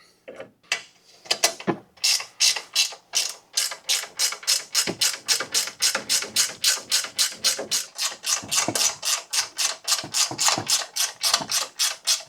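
A hand ratchet tightens a nut on the upper control arm of an 11th-generation Ford F150, giving a long, steady run of close, crisp clicks in quick even strokes with brief pauses, and no talking.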